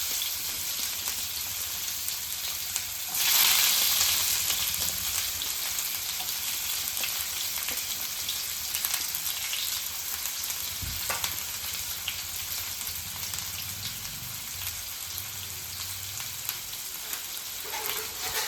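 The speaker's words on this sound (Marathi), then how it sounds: "आपल्याला हा कांदा जो आहे ना व्यवस्थित इथे परतून घ्यायचा आहे" Chopped onion sautéing with cumin in a hot pan for aloo matar bhaji, a close, continuous hiss and sizzle with occasional stirring scrapes and no talking.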